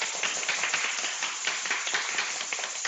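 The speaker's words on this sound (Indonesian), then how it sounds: "tepuk tangan dulu buat semuanya." Children in a kindergarten class clap their hands together, a dense, steady patter of many small hands filling the room, close and lively with no talk over it.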